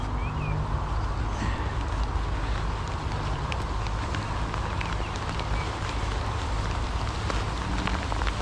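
Heavy rain falls steadily on a canal towpath, a dense, even hiss with scattered drop patters throughout and no voices.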